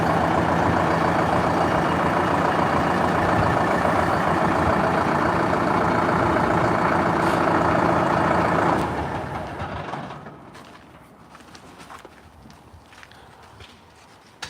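A mini tractor engine runs loud and steady up close for about nine seconds, then fades quickly as the machine drives away, leaving quieter background noise.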